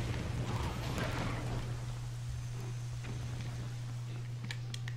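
Rain falls steadily in the video game Zelda: Twilight Princess as a faint, even patter with scattered ticks over a low steady hum.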